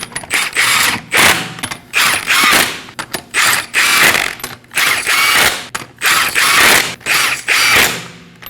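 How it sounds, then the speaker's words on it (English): A hand ratchet snugs lug nuts on a Nissan Armada wheel in a star pattern, with repeated bursts of rapid, close clicking separated by brief pauses, loud and clear without talk. "Snug everything up in a star pattern."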